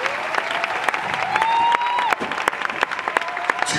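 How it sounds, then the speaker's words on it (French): A large crowd at a funeral service claps loudly and steadily, dense applause with sharp individual claps and a sustained tone running underneath. "Acclame très fort."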